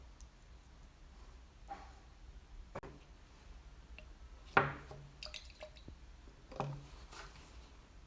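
Universal indicator liquid drips into test liquids during a school neutralisation experiment, giving a few faint, scattered drip and splash sounds with one sharper drop partway through, in a quiet room.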